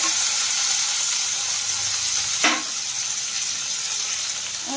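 Chopped onion and black cumin sizzle steadily in oil left over from frying fish, a dense close crackle with one sharper burst midway as the onion goes in; no one speaks.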